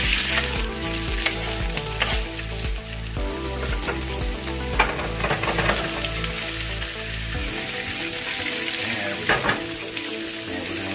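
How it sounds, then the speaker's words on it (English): Thin sliced onions sautéing in heated olive oil, a loud continuous sizzle and crackle with intermittent stirring scrapes in the pan and no talking. "So I've thin sliced our onions. We're going to take those over. We've got some heated olive oil here."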